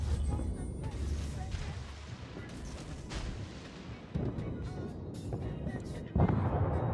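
Naval gunfire in the World of Warships video game: low, rumbling cannon booms and distant blasts at modest volume, with a couple of sharper, heavier shots landing toward the end.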